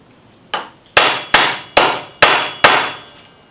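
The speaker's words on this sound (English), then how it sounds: "he's just sledged the bolt, or the nut rather, into the pipe" Six sharp metallic sledgehammer blows drive a nut into a metal pipe while building an aquarium stand, each strike ringing briefly then decaying, evenly spaced about half a second apart, close and loud with no talk.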